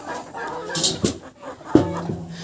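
Backyard chickens, including small crested young birds, cluck and squawk nearby in short irregular bursts, with a couple of sharper louder calls standing out over a quiet farmyard background.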